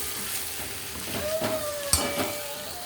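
Food fries in a pan while being mixed, giving a soft, steady sizzle with a few light scrapes and a single sharp clink of the utensil against the pan.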